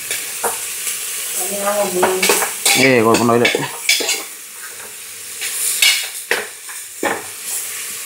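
Sliced onions fry in oil in a pressure cooker pot, sizzling loudly while a utensil scrapes and clatters against the metal in bursts, up close, with a brief spoken remark partway through.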